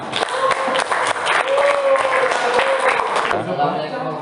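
Applause for group 3 in a classroom, students clapping in a dense, lively burst that fills the room for several seconds, with voices calling out over it before it quickly fades.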